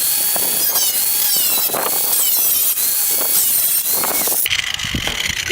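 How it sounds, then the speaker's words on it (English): An angle grinder with a cutoff wheel cuts through metal with a loud, steady high-pitched whine and shriek that holds throughout, its tone shifting near the end as the cut changes. "grab my grinder with a cutoff wheel and just start"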